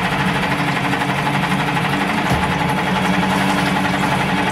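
A CG Marine 6hp four-stroke outboard motor idling, a loud steady close-up chug with even rhythm and no change in speed, running alone without talk.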